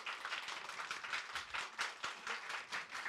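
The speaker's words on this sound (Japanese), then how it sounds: "歓迎の拍手をしたい。" Welcoming applause from a church congregation at a Sunday worship service in Tokyo, soft and fairly distant clapping with uneven swells, quiet throughout.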